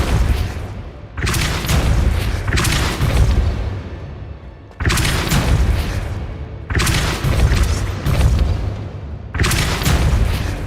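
In Hogwarts Legacy, a series of heavy Depulso spell blasts land one after another: five or six loud booming bursts, each with a sharp attack and a long rumbling tail, some overlapping.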